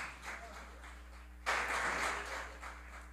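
An audience at a city council plenary session breaks into applause, starting abruptly midway and continuing as a soft, diffuse patter over a steady background hum, fairly distant and faint.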